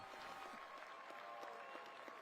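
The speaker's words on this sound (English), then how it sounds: "Applause coming out for him as he is leaving the field right now" A high school football crowd at a Gainesville vs. Langston Hughes game in Georgia applauds steadily and at a distance as an injured player leaves the field, a continuous wash of clapping with no voices standing out.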